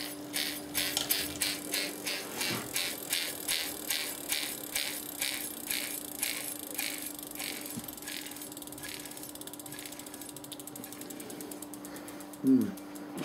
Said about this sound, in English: There's a weird noise coming from the back here, and I think it's coming from the disc brake.